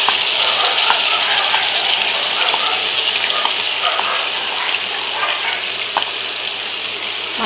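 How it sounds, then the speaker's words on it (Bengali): Marinated quail meat goes into hot spiced oil in a pan for a Dhaka-style roast. A loud, continuous close sizzle with stirring and scraping runs throughout. "এখন আমি আমার ম্যারিনেট করা মাংসটা এর ভিতরে দিয়ে দিব।"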